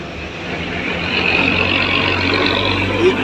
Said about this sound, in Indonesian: tancap gas sekali, Pak